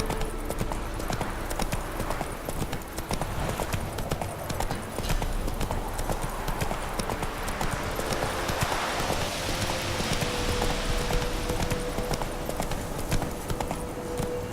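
Roach, the horse in The Witcher 3, gallops with a steady, rapid clip-clop of hooves over continuous game music and ambience, sustained and fairly loud throughout with a faint whinny.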